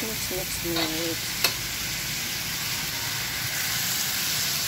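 Pork sautéing and being stirred in a pan for batsoy, a steady close sizzle with a spatula scraping and clinking against the pan, heard alone without talk.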